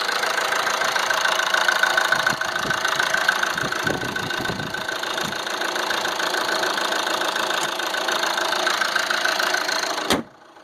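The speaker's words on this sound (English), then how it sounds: "Here, the engine's running just fine." A salvage 2014 Chevy Cruze engine idles steadily under the open hood, a smooth even hum with light ticking, close and constant until it stops abruptly near the end.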